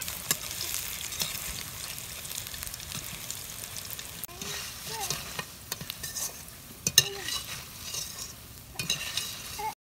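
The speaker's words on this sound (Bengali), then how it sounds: "পকোড়াগুলোকে আমাকে মিডিয়াম আঁচে ভাজতে হবে" Cabbage pakoras frying in oil over medium heat give a steady close sizzle throughout, with occasional clicks and scrapes of stirring.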